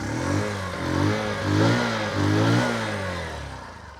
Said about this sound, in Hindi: बाकी एक बार मैं आपको एग्जॉस्ट नोट जो है वो जरूर सुना देता हूँ, उसकी एग्जॉस्ट नोट कैसे आती है